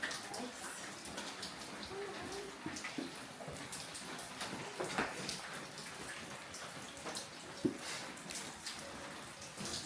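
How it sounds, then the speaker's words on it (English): Rainwater dripping and trickling through the roof inside a house: steady patter of drops and running water with scattered splashes, fairly faint, with brief distant voices in the background. "It's like we've got little waterfalls everywhere."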